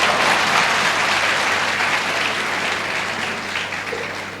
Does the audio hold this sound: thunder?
no